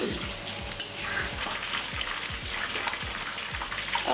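Spice paste of chilies, green peppers, shallots and garlic sizzles and pops steadily in a hot pan for a tofu dish, with repeated scraping stir strokes and a close, continuous frying hiss.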